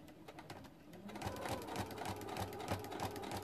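Sewing machine stitching an applique circle onto fabric, a fast, steady mechanical whirr with rapid rhythmic needle ticks, starting slightly softer and then running continuously close up.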